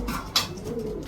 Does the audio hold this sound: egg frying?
no